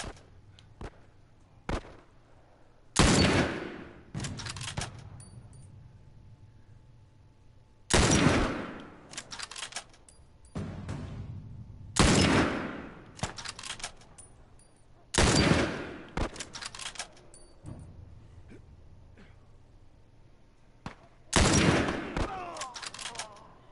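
Repeated bursts of gunfire from a high-powered sniper rifle and other weapons in The Last of Us, loud sharp volleys recurring every few seconds with quieter game ambience between.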